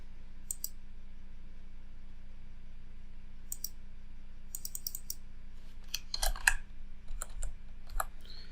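Sparse, faint keystrokes on a computer keyboard while adding text in Photoshop, scattered at first and then clustering into a short quick burst, over a steady low electrical hum.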